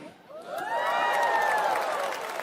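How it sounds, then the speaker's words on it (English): Comedy-show audience applauding and cheering in a big venue, a loud sustained wash of clapping and crowd noise that swells and holds steady. "some of you are clapping"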